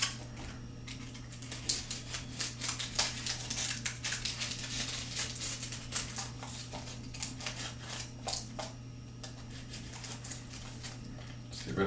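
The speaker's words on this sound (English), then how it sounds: "just take your scissors or your X-Acto or what have you, and just trim the excess right off" Scissors or a craft knife trimming excess wax paper while building a DIY camera obscura, a series of quiet, close snips and crinkly paper rustles over a steady low background hum.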